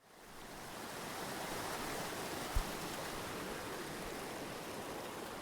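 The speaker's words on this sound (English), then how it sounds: "That is the sound of Whitewater Rapids." Whitewater rapids on a river in western Montana, a steady broad rush of churning water that holds constant from start to finish, with one brief low thump partway through.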